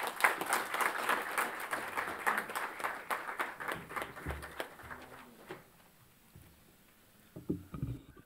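An audience at a formal book release with India's Vice President present applauds in a dense round of clapping, which tapers off into a few scattered claps and faint murmurs.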